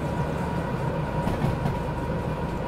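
Continuous rumbling roll of train wagons in the Derail Valley railway game, a dense steady rail drone with faint rhythmic clacks, loud and unbroken with no voices.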